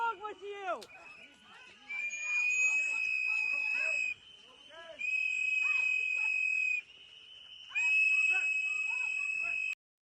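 Several whistles blow together in three long, steady shrill blasts, with people talking and shouting underneath and between them.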